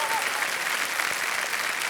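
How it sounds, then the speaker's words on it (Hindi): A studio audience on the KBC quiz show gives loud, dense, sustained applause that carries through the whole moment without a break. "एक बार फिर जोरदार तालियां आ जाए"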